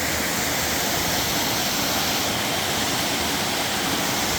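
Water flows down a stream in the Western Ghats, a continuous dense rushing hiss at moderate level, with no speech.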